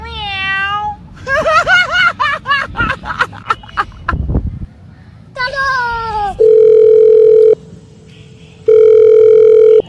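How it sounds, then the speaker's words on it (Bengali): A telephone call to the police is being placed in a comedy short film. After a stretch of lively vocal sounds, steady electronic ringing tones sound in two long, loud bursts separated by a short gap. "দাঁড়া আমি পুলিশকে ফোনটা লাগাই।"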